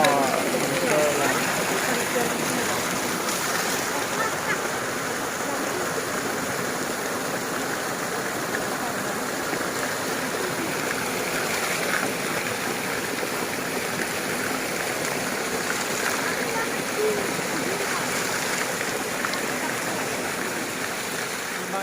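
Steady rushing roar of a waterfall in West Karbi Anglong, continuous and broadband, with faint speech underneath.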